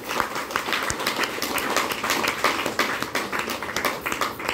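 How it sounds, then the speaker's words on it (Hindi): Steady applause from an audience at a DXN office meeting, dense overlapping claps at an even level, with no voices over it. "हमारे डॉक्टर लिप सिरोदी, मैं चाहता हूँ एक बार उनके लिए दिल से ताली बजाइए"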